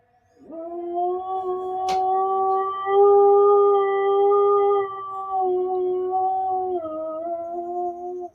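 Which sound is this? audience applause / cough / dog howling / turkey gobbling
dog howling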